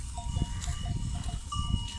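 Dairy goats kept for milk bleat close by in a flock of sheep out grazing, with several overlapping calls over a constant outdoor background.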